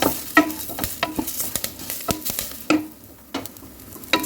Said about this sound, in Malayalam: ഒരു ഉണ്ട വെളുത്തുള്ളി ഉണ്ട്, അതും ഇട്ടിട്ട് നല്ലോണം ഒന്ന് വറുത്ത് കൊടുക്കാം